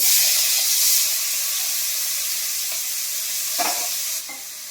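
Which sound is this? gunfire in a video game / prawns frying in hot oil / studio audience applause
prawns frying in hot oil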